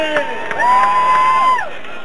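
A large crowd at a 1998 Jesse Ventura election event cheers and whoops loudly, with a sustained shrill whistle-like tone rising above the roar, continuous for about two seconds before easing slightly.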